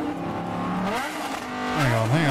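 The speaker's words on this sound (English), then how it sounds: "That's an Aventador." Lamborghini Aventador supercar engine revving nearby, its throaty note rising and falling in pitch with two surges, the second louder, as people talk in the background.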